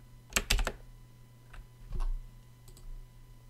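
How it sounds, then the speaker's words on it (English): A malfunctioning computer keyboard clicks in a fast cluster of sharp keystrokes, followed by a few scattered isolated clicks, close and quiet over a low steady hum. "my keyboard is freaking out"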